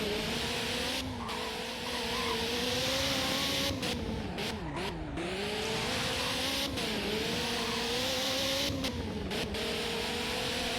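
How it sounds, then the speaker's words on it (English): A circuit-focused car in a racing video game accelerates hard, its engine note climbing and dipping through gear changes with brief tire squeals, loud and continuous throughout. "Let's see how this car performs now."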